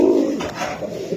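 Pigeons coo softly in a low, murmuring roll at a pigeon seller's stall, a steady close burble with no voices over it.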